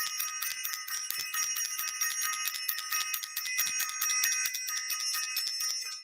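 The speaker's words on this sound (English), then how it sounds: "Tonight, I am ringing the bell for everyone who is self invested." A bell rings rapidly and continuously with a bright metallic shimmer, quiet and steady, with no voices over it.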